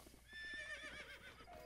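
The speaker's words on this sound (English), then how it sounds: "let's go, horsey." In the video game Zelda Breath of the Wild, a horse gallops with quick rhythmic hoof clops under a loud, wavering neigh, close and prominent.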